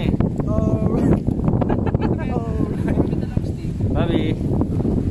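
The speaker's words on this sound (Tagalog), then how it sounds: "Ang lakas ng hangin." Strong outdoor wind buffets the microphone with a constant low rumble while people chat loudly nearby.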